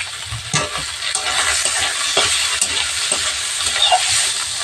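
Marinated chicken goes into a pan with ginger-garlic paste and sizzles loudly, with scraping stirs and clatters over a constant frying hiss, no talking.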